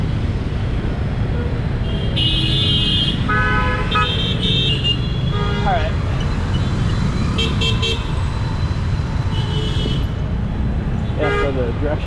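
Dense street traffic in Bangalore rumbles steadily, and car horns toot again and again, short and near, over the roar of engines.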